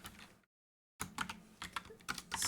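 A computer keyboard clatters as code is typed during a Unity game development session, with a burst of taps, a short silence, then a denser run of quick keystrokes.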